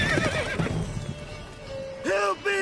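Roach the horse whinnies in The Witcher 3, a loud nearby neigh near the end after muffled voices and hoof movement, with a second short burst following.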